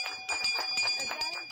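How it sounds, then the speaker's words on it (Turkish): An electric school class bell at a small primary school on Gökçeada rings with a steady high metallic tone, continuous and moderately loud, with faint background noise. "yarım asır sonra yeniden ders zili çaldı"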